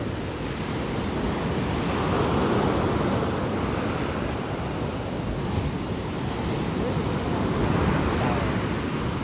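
Ocean waves at sunset wash steadily onto the shore in a continuous broadband roar that swells slightly, with wind buffeting the microphone throughout.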